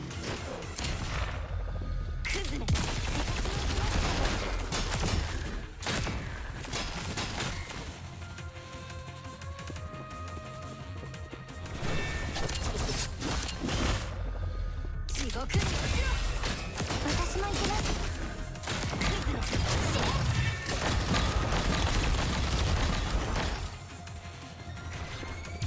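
Gunfire in the Punishing: Gray Raven game, dense sharp shots and crashing impacts crowding the whole stretch with brief lulls, game music and a talking voice layered underneath.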